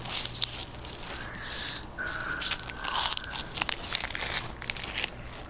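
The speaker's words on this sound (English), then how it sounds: "You hear him munching on chips?" Someone munching on chips: close, irregular crunchy bites and crinkling in a steady patter, fairly faint, with gameplay sounds from a Last of Us match faintly behind.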